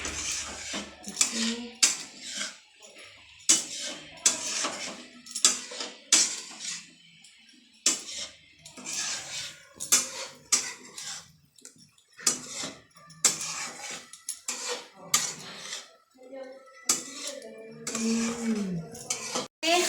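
Egg bhujia stirred in a pan, with intermittent spatula scrapes and clatters against the pan in irregular bursts separated by short quiet gaps, close and moderately loud.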